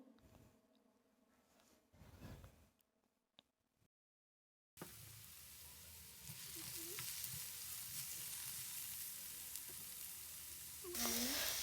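Around 200 grams of potatoes hit a hot frying pan for a vegetable risol filling and set off a loud, steady sizzle that fills the space after a brief silence, with faint stirring clinks.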